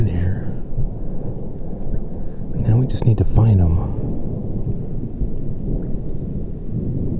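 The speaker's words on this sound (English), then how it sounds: "So, some more thunder." Low rumbling thunder rolls through a forest during an elk hunt near a spring and wallow, swelling in the middle and then fading, with someone talking quietly over it.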